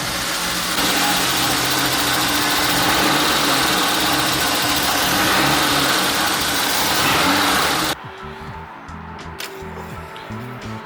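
A BMW E30 engine idles steadily and loud for most of the stretch, then cuts to a much quieter low hum near the end.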